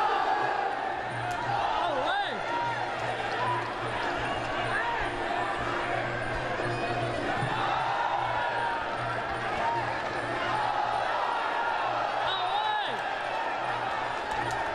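A packed crowd at a Muay Thai fight in Rajadamnern Stadium, Bangkok, yells and roars continuously, a dense wall of voices with surges and shouts rising over the steady din.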